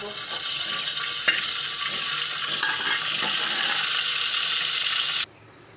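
Something frying in a pan makes a steady, close sizzle with a few faint clinks, then cuts off abruptly near the end into quiet.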